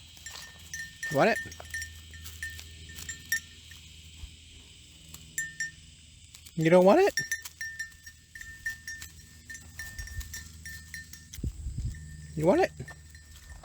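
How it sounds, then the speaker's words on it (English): Goats on a property bleat several times while being fed, with three distinct calls spread across the clip, near and fairly loud, amid a man's coaxing speech and steady background hum. "So here's how that went as I tried to feed the goats."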